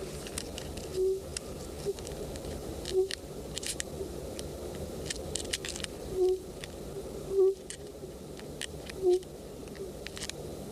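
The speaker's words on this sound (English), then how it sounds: "Tape recordings of a sitting hen bird are played to encourage it to emerge." Soft, low clucking calls from a sitting hen, spaced irregularly a few seconds apart over a faint buzzing background.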